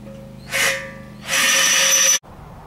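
A power drill with a 9/32 drill bit boring through material in a workshop while building a bench grinder stand, two loud bursts of whirring, a short one then a longer one that stops abruptly.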